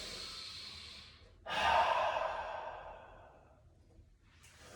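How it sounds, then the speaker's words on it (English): Slow yoga breathing during a gentle stretch class: a soft nasal inhale followed by a long, breathy exhale through the mouth, close and quiet, with no talking. "Inhale through the nose, exhale through the mouth."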